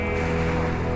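Sea surf washing in along a shore, a steady broadband roar with wind buffeting the microphone, continuous and fairly near.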